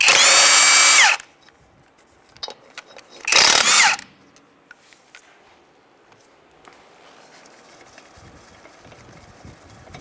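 A power tool working the locking lug nuts on a 1992-1996 Ford F-150 wheel, two loud, close whirring bursts of about a second each, then quieter handling clatter and faint shop noise.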